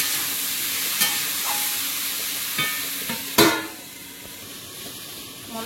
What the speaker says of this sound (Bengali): টমেটো আর কাঁচা লঙ্কা, আলুটাকে ভালো করে ভেজে নেবো